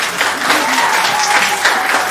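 Applause from an audience at an art camp and art exhibition, a steady, dense wash of clapping hands sustained throughout at fairly close range.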